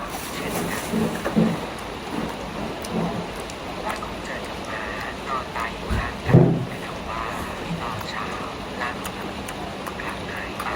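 Steady rain hisses throughout, with a few heavier thumps and a deep rumble midway. Voices talk faintly underneath.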